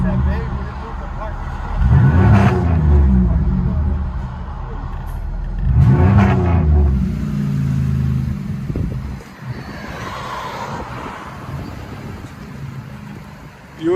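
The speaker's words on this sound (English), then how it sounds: "Buick Lucerne straight pipe with resonator. That's got a distinctive sound." Interior of a 2006 Buick Lucerne with a 3800 V6 and straight-pipe dual exhaust with resonator and muffler delete, giving a deep droning rumble with two loud revs swelling and falling back, then a steady idle.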